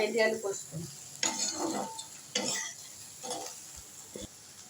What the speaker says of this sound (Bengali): ভাজা করে নিয়েছি ভেন্ডিটা আলুটা ভালো করে ভাজা করছি